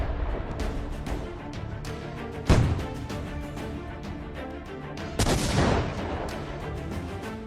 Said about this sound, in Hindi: तेल अवीव के आसमान में ईरानी क्लस्टर बम से भारी मिसाइलें कैसे कोहराम मचा रही हैं